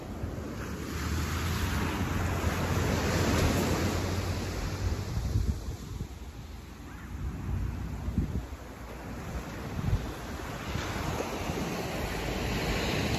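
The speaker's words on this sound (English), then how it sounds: "The waves are coming in a little bit harder than they have the last couple days on Maui." Ocean waves break and wash continuously onto Paia beach on Maui, a full, rushing surf that swells and recedes under steady wind, with no voices.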